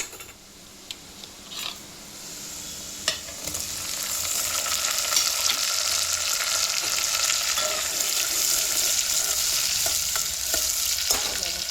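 Tomatoes are added to onions, cumin and mustard seeds frying in hot oil, with a few light stirring clinks at first, then a loud, steady close sizzle that builds and holds to the end.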